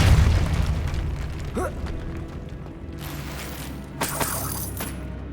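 Depulso spell cast in the Hogwarts Legacy video game: a heavy low boom at the start, followed by mechanical clunks, ratcheting and creaking, then bright crackling bursts near the end, loud and close.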